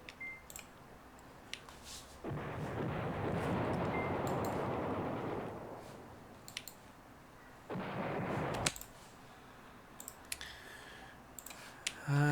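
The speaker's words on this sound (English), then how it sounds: "Let's get them to bombard this guy." Artillery bombardment in the strategy game Command Ops 2, two rumbling bursts of shelling, a long one then a shorter one, separated by quiet stretches with scattered sharp mouse clicks and no speech.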